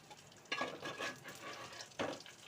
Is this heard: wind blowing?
no